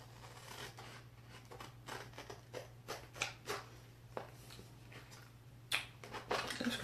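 Scissors snip through a white Chalk Couture magnetic board along its cut lines, giving a series of short, close, crisp cutting and crinkling sounds at irregular intervals over a steady low hum.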